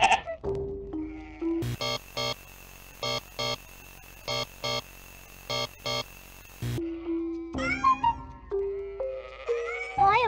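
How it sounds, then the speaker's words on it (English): Sheep bleating in the video game Amanda the Adventurer, several distinct bleats of different pitches near the start and end, with a repeating chiming jingle in between that pulses in a steady rhythm. "Look at the nice sheep family."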